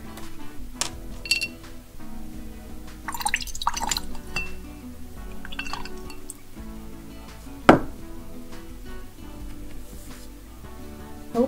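A brush swirls and taps in water while mixing yellow and turquoise handmade watercolor paint, with soft wet dabbing, light clinks against a palette or glass, and one sharper knock, all close and quiet.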